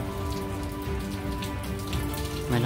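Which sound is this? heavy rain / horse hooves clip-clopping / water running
heavy rain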